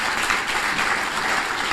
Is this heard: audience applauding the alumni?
yes